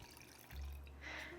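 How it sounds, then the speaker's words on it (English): Half a cup of water pours into a bowl of egg salad dressing with white wine vinegar, a soft steady trickle starting partway through and running to the end, close and fairly quiet. "And then 1/2 cup of water."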